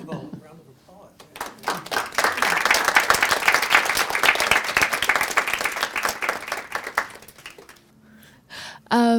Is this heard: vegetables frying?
no